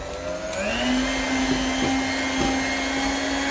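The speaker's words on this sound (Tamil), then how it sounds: "இப்போ முட்டையை போட்டு அடிப்பேன்" An electric mixer runs steadily at close range, beating two eggs for a date cake, with a constant whirring hum and a few faint clicks of the beaters against the bowl.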